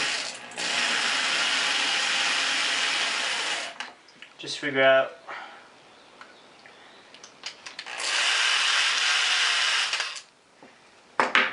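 A power drill whirs in two long bursts driving screws into wood, separated by a pause with clicking and a short spoken remark.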